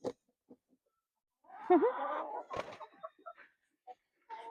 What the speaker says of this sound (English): Silly chicken.